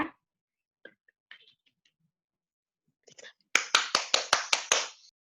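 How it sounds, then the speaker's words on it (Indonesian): Short burst of classroom clapping: about seven sharp, evenly spaced hand claps, close and fairly loud, coming after a stretch of near silence with faint movement noises. "saya minta untuk memberi apresiasi berupa tepuk tangan kepada Mbak Agatha ya."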